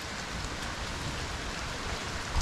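Steady rain falls close by, a dense even hiss of drops hitting surfaces, constant throughout with no voices.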